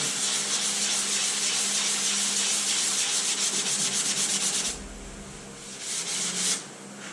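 Sanding block rubbed over body filler on a car body line, a steady close scraping hiss with rhythmic strokes that stops abruptly, then a brief quieter burst of rubbing.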